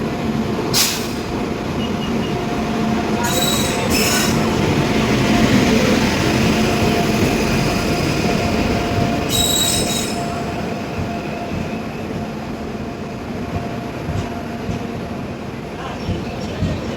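Train wheels squeal along the railway tracks during a Darjeeling trip, a steady loud rumble with bright screeching bursts near the start and again around the tenth second, heard from on board.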